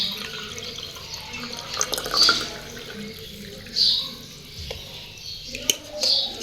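Neem-soaked water poured into a glass, a soft liquid trickle with a few brief splashy bursts against quiet background noise, close by.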